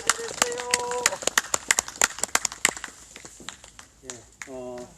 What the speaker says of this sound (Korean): 박수 한번 더 주시기 바랍니다.